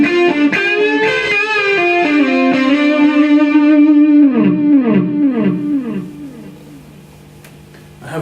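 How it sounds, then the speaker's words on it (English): Electric guitar runs through delay effects, the echoes swelled up by an expression pedal: a phrase of sustained notes followed by repeating, cascading delay trails that gradually thin out and fade, loud and alone. "If I push the expression pedal forward, it really brings the delays to the fore."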